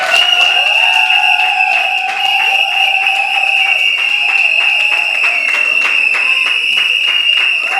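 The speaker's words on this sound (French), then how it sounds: "On les applaudit, s'il vous plaît." A crowd at a civil wedding applauds the newlywed couple with fairly loud, steady rhythmic clapping and some cheering, while sustained tonal sounds hold through the applause.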